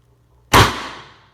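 A Valken M17 airsoft rifle firing at standard pressure, a single sharp loud crack that rings briefly and decays, close by, with no talk.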